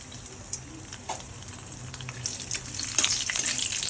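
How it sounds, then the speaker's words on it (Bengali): Cashews and raisins fry in hot white oil, a steady hiss that grows louder and brighter toward the end, close and without talk. "এখানে দিয়ে দেওয়া হচ্ছে এখানে কাজু বাদাম আর কিশমিশ প্রথমে ভেজে নেওয়া হচ্ছে"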